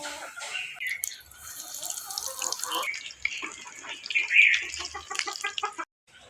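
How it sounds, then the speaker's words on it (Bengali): Eggplant fritters (beguni) fry in hot oil with a dense, hissing sizzle and crackle close by, rising and swelling in bursts before briefly cutting out near the end. "ছোলা রান্না করা শেষ, এখন আমি বেগুনিগুলো ভাজে নেব।"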